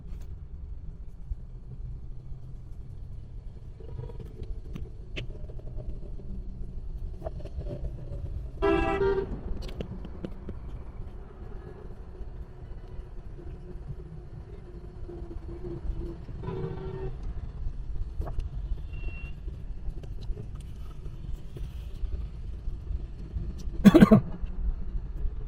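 Heavy midday road traffic on the Islamabad Expressway, a continuous low rumble of passing vehicles with occasional car horn toots, one sharp honk near the end, and a brief cough, all heard from close by.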